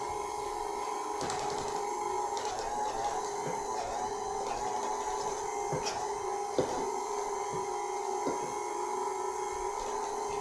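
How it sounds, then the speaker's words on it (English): A KitchenAid stand mixer whips mashed potatoes with a steady, faint motor whine and hum, a continuous drone broken by occasional soft knocks of the beater against the bowl. "You really shouldn't do this kind of thing with a KitchenAid mixer."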